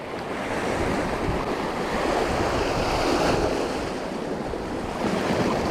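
Wind gusts buffet the microphone at the seashore while fishing, mixed with a continuous roar of surf. The sound is loud and broadband and holds fairly steady throughout.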